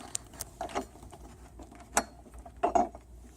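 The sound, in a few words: screwdriver driving a screw into a plastic picnic table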